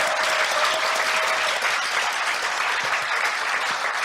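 Dense, steady crowd applause at a Korean gathering, filling the whole stretch with continuous loud clapping and no talk over it.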